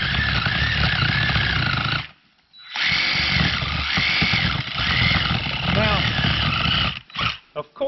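DeWalt power tool whirring loudly and steadily, briefly stopping then starting again, with a few short bursts at the end.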